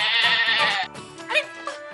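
A goat gives a loud, close, wavering bleat, then two shorter calls follow after a brief pause, standing alone without talk.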